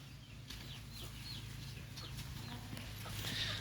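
Chickens and a rooster on a backyard plot in Mexico, soft repeated clucking calls over a steady low hum and faint rustling, moderately distant and fairly quiet throughout.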